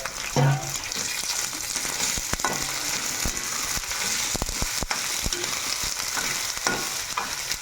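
Chicken pieces frying in oil in a clay pot for biryani, a steady loud sizzle throughout with scattered clicks and scrapes from stirring, no voices.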